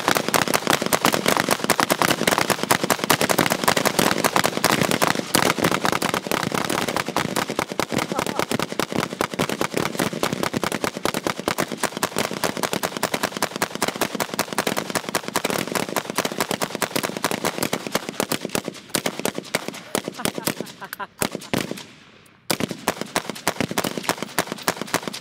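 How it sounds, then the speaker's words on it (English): Rapid automatic gunfire on a shooting range, dense, loud bursts of shots rattling almost continuously for the whole stretch, with a brief break near the end before firing resumes. "Shooting in 3, 2, 1."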